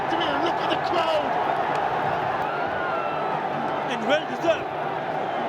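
A large cricket stadium crowd roars and cheers after a final victory in the Bangladesh Premier League, a broad sustained wash of noise with whoops, under a commentator's voice.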